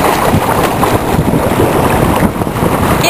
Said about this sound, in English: Helmsman Jesse Alan Ablett on Lolligagger, zooming across Kinchin Dam, taking on the speedboat wake.